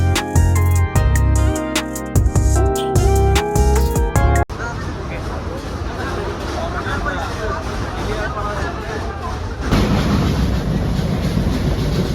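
Freight train wagons pass on the Jamuna bridge, heard from an intercity train travelling Dhaka to Rajshahi. A loud tonal blare gives way to a steady, dense rumble and rattle of rolling wagons that grows slightly louder near the end.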